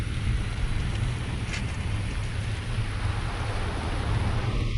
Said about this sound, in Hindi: ये बारिश बहुत तेज है।